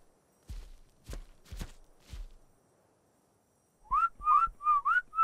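A person whistles a few short rising notes near the end, clear and close, after several footsteps thud on their own.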